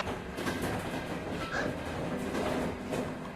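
A train in a VRChat game rumbles past with steady clickety-clack wheel noise, a continuous moderate rolling sound throughout.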